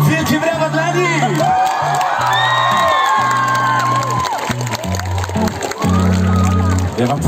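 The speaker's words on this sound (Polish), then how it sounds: "Wielkie brawa dla nich!" Festival crowd at an outdoor pop concert in Ustka cheering, whooping and shouting loudly over thumping music, with voices mixed in throughout.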